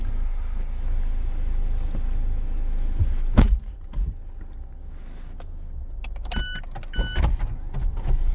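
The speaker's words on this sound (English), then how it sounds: "the rear removes, the hood tips over, it all folds neatly under that storage cover" Electric motor whir of a Mazda MX-5 RF 2.0 Skyactiv-G Exclusive-Line convertible in Aero Grey folding its retractable hardtop, with a loud clunk partway through and several sharp mechanical clicks near the end, close by and with no talking.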